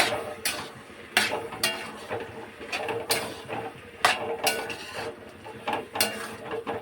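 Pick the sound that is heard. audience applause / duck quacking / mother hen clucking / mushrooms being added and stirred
mushrooms being added and stirred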